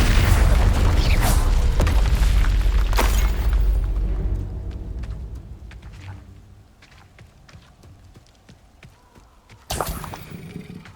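Confringo spell blast in Hogwarts Legacy: loud bursting impacts over the first few seconds fading into a quieter rumbling tail, then another sharp blast near the end.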